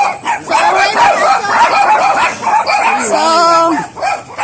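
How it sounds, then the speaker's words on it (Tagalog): Several dogs bark and yip loudly and close by, overlapping with whining calls and chaotic barking. "nandito naman tayo sa maraming aso"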